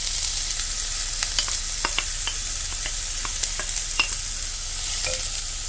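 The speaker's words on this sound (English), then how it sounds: "And you want to cook your vegetables until they're soft." Vegetables cooking in oil over moderate heat in a soup pot for tomato soup, a steady close sizzle with scattered light clicks of stirring and scraping throughout, no voices.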